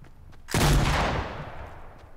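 A single loud gunshot in Fortnite Mobile bursts out sharply and trails into a long fading echo, standing alone with no talk over it.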